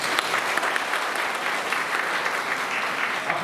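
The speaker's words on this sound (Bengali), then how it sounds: "আমি সবাইকে বলবো একটা জোরে হাততালি হয়ে যায়।" A crowd at an AIDS awareness meeting and rally claps loudly and steadily for a few seconds, a dense, even burst of applause with no other sound standing out.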